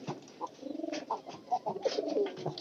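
A domestic pigeon at a home loft where a squab has just hatched, giving soft, close, repeated low coos in a steady rhythm with brief pauses.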